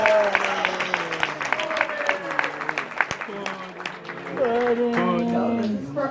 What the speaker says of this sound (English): Can we get a round of applause for Chelsea for animating the pudding face?